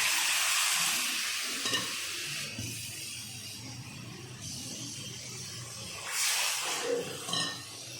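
Steady broadband sizzle of okra frying in a pan, with occasional scraping and a brief louder crackle near the end.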